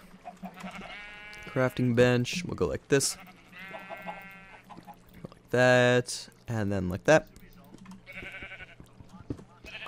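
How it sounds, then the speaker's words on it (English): Sheep in a Minecraft modpack game bleat repeatedly in loud, drawn-out calls, several overlapping in bursts, while someone talks over them. "let's definitely turn down these sounds, because sheep, you're annoying me."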